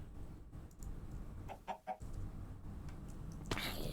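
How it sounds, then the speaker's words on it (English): A Minecraft chicken clucks in a few short, quiet bursts over a steady game background, ending in a brighter burst of sound. "Dude, this chicken is living dangerously."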